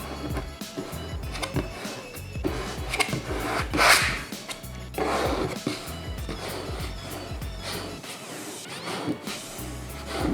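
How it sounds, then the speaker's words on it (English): Squeegee rubbing and pressing along a butt-jointed seam where two pieces of vinyl meet, making close, continuous scraping and rasping strokes with a few sharper knocks. "with the squeegee we can basically just butt the two joints together"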